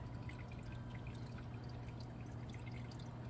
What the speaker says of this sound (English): we're just going to add a little bit of water